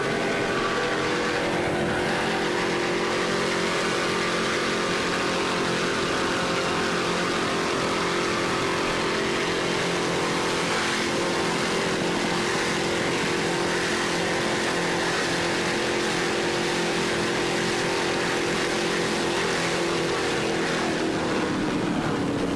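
An Outer Limits powerboat with Mercury 525 hp inboards roaring past during offshore racing at Biloxi, Mississippi, a loud, continuous engine drone holding steady before its pitch drops slightly as it passes.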